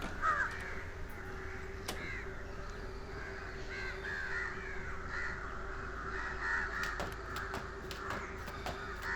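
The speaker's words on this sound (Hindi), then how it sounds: "उसके घर के आसपास अचानक से बहुत सारे कौवे दिख रहे थे।" Crows cawing around a house in a 3D animated horror film, many overlapping caws fairly faint at a distance over a steady background hiss.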